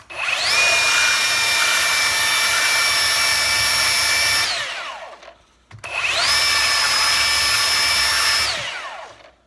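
A Ryobi 18 Volt One+ brushless cordless belt sander runs in two bursts of about four seconds each, a loud steady high whine with sharp start-up and spin-down and a brief pause between.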